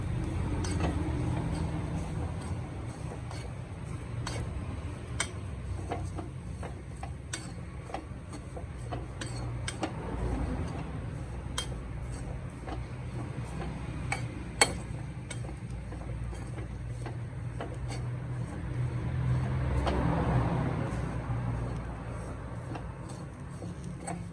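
Chili powder, coriander powder and onions roasting in a pan for a Kerala prawn and shallot theeyal, with steady low scraping and frequent light ticks of a spatula against the metal, continuous and moderately quiet, with no talk.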